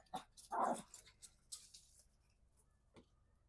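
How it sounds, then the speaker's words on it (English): An agitated dog gives a few short, sharp barks, close but fairly quiet, scattered over a few seconds with brief gaps between them. "My dog is getting agitated by the cat."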